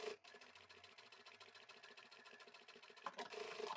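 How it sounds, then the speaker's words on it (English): Close, steady whirring of a sewing machine running continuously as it stitches along the side seam of a fabric Japanese rice bag, a louder burst of stitching near the end. "I'm happy just to sew over that side seam and then turn the bag the right way round"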